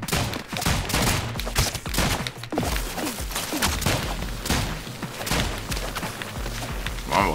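Rapid gunfire and explosive booms from the video game ROUNDS, a dense, loud barrage of shots and thuds running continuously throughout with game music underneath.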